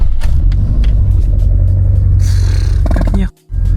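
Car engine starting after sitting unused for several days, a loud steady rumbling idle that swells briefly, then cuts out abruptly for a moment before the rumble resumes.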